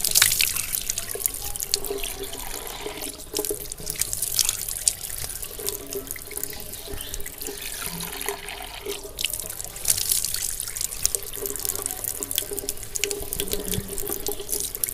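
Tap water runs continuously into a sink while someone washes their face, with steady splashing, dripping and hand-scooped water sounds throughout, close and fairly loud.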